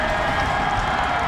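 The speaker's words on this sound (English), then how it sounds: "The Huskies crowd coming alive." UConn Huskies football crowd at a stadium bowl game, a steady wall of cheering and roaring from a large crowd, loud and continuous with no break.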